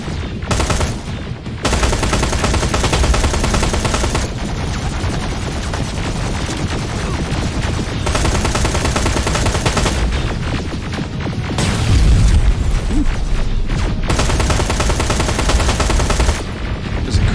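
Sustained automatic gunfire in the Terminator: Resistance shooter game, dense rapid bursts nearly continuous across the whole stretch, loud and close with brief lulls and heavy low booms.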